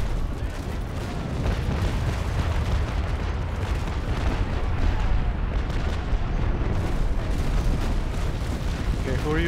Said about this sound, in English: Shooting, guys.